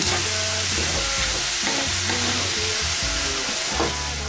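Bottle gourd (upo) sautéed in a pan with onion and tomato for ginisang upo, a steady close sizzle broken by repeated scraping stirs of a spatula, with no one talking.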